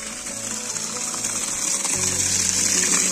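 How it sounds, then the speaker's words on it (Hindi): Water gushing steadily from a cold tap after the supply is switched on, a continuous broadband rush that thickens and grows slightly louder partway through. "नॉल पे आ क्यों नहीं रहा है पानी हाँ शुरू हो गया"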